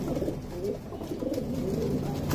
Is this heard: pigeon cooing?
yes